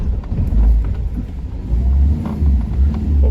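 A car pushing along a muddy, rain-damaged dirt road, its engine rumbling loud and close with steady low droning, bumps and jolts from the rough surface, and wind buffeting the microphone.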